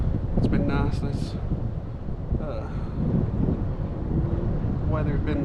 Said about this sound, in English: This wind has got them fired up